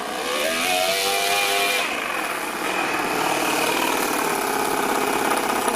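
Four-cylinder four-stroke nitro engine in a radio-controlled rat rod, idling close by with a steady buzzy drone and a slight dip in pitch partway through; a voice is faintly present.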